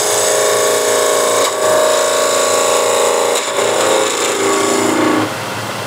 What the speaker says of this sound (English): what I like to use is skew, and again you'll see where the dust is coming from, and this will be more of a planing cut